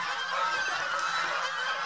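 Domestic geese honk repeatedly in a noisy flock on a farm, their calls overlapping in a continuous, fairly distant clamor.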